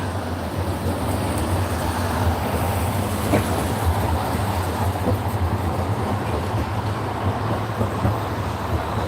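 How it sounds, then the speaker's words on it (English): A tram rumbles past close by on an Edinburgh street, a steady low rolling drone with faint rail clatter throughout. "we've got another tram going past."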